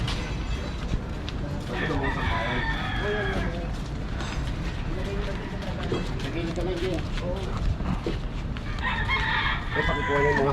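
A rooster crows repeatedly and clucks nearby amid loud outdoor bustle and overlapping talk during a barangay clearing operation.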